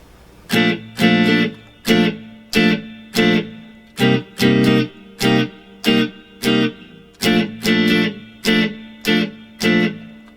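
Guitar plays the second strumming pattern of a song, a steady run of short, choppy chord strums in an even syncopated rhythm, about fifteen bursts, close and clear with no voices.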